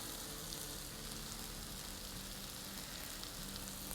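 Onions sauté with salt in a pan for tilapia fish masala, giving a steady close-up sizzle that holds evenly throughout with no talking.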